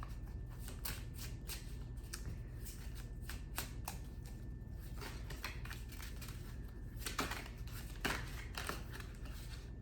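Oracle cards being shuffled by hand in a steady stream of soft riffling and slapping, with a few louder card snaps toward the end and no voice.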